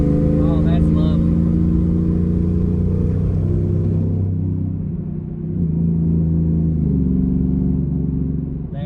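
An MBRP aftermarket exhaust on a 2020 Ford F-150 pickup rumbles in a deep, steady low drone heard from inside the cab, swelling and easing slightly midway as the truck drives.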